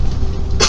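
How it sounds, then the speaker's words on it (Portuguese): A single sharp cough bursts out close to the microphone near the end, over the low hum of a car interior on the road. "Me deu tosse."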